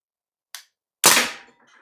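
A Crosman A4-P CO2 blowback BB machine gun fires one sharp crack outdoors, preceded by a brief small click, with the report decaying quickly; no voices.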